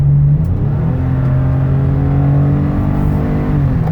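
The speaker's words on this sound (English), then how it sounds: "so you can hear the engine run, listen to the transmission shift" A 2015 Toyota Sienna L minivan engine pulls hard toward highway speed, its loud, steady drone rising in pitch, then dipping and climbing again as the transmission shifts.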